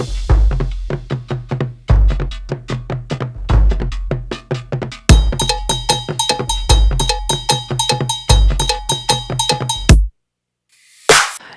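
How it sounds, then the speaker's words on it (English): Cowbell riding a tribal-style dubstep drum groove, its bright metallic clanks joining the steady kick and percussion hits partway through before everything cuts out abruptly, leaving a short burst at the end. "Brought the cowbell back in the 2nd measure and stopped everything on the pickup."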